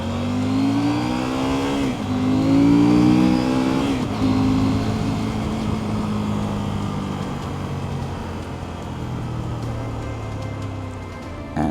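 A CFMoto 800MT IBEX motorcycle's engine revs up through rising gear sweeps while riding, loud and close, easing into a steady cruising drone.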